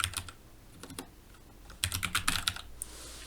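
Someone types a short command on a computer keyboard, close-up key clicks in a few quick bursts separated by brief pauses, with no talking.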